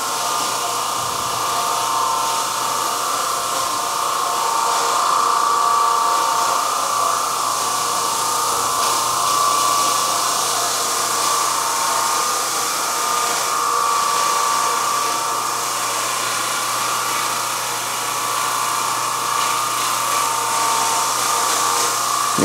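An Oreck Orbiter floor machine scrubs a tile floor in a house with a loud, steady motor whine and a broad scouring hiss that hold constant and close, with no talking over it.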